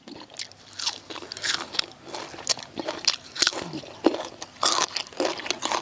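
Close, crisp crunching as someone bites and chews fresh raw sadao din leaves, with irregular wet crunches and snaps repeating over several seconds.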